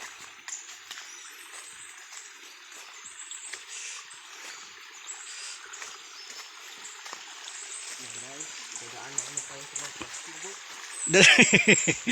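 Steady rushing flow of a rain-swollen river, broadband and continuous, with a voice briefly heard near the end and a louder splashy burst at the close.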